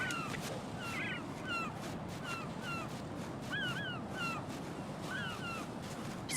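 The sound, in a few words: crow cawing in video game Metal Gear Solid 2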